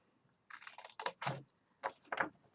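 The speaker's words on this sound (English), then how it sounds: "then you just want to snip that bit off" Scissors snip paper for a handmade gift card holder: a few short, crisp cuts in quick clusters, close and fairly quiet, with no talking.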